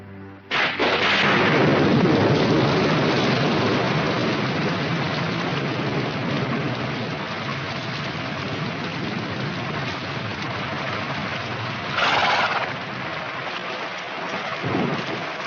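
Heavy rain pours steadily during a thunderstorm, with a loud thunder crash near the start and another rumble around twelve seconds, then a fainter one near the end, with no talking.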